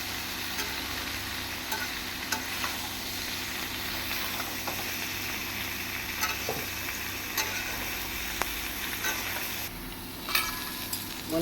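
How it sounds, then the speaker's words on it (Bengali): Jackfruit and mango stirring and frying together in oil for a sweet pickle, making a constant sizzle broken by scraping stirs and small clinks in the pan, with no one speaking. "আমি এবার তেল দিয়ে হিঁচড় আম একসঙ্গে নাড়া দিয়ে নিচ্ছি"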